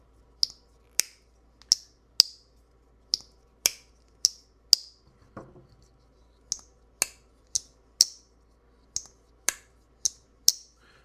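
A titanium Jack Wolf Gateway Series folding knife with no stop pin flips open and snaps shut over and over, giving sharp, crisp metallic clicks in close, uneven pairs, with a short soft rustle in the middle.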